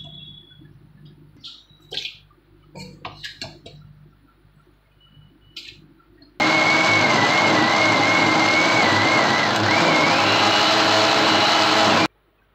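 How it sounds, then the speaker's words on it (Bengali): A kitchen mixer grinder blends a spice paste for butter paneer, starting abruptly after quiet kitchen clatter, then roaring loud and steady for about six seconds before cutting off. "এবার আমি মিক্সিতে এটা ব্লেন্ড করব"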